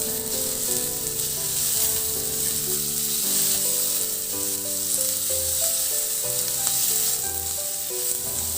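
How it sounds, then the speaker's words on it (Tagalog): Ginger and onion aromatics sauté in a hot pan, giving a steady, close sizzle that runs without a break across the whole stretch, with no talking over it. "At habang ginigisa natin yung ating mga aromatics, maglagay na rin ako ng tanglad"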